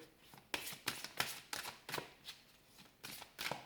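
A deck of tarot cards is shuffled by hand in a quiet room, producing a series of soft riffling bursts at a fairly regular pace, about nine in all.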